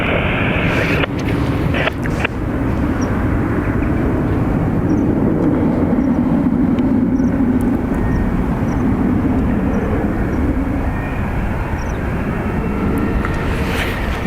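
Emirates-style flight EK 162 departs an airport for Dubai, its jet engines producing a sustained loud roar that swells gently in the middle of the run, with a few faint bird chirps and no talk.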